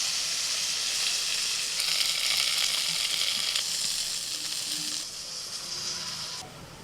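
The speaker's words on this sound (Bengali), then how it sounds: "নিম পাতা বেগুন ভাজা হয়ে গেল" Eggplant fries with neem leaves in a pan, giving a close, bright sizzle that crackles steadily, swells briefly in the middle and then eases off toward the end.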